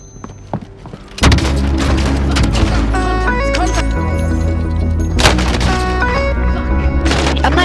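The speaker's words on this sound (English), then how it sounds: "I want to show you what this shotgun can do" JAK-12 automatic shotgun firing in Call of Duty Warzone, heavy booming blasts in quick succession layered with loud background music.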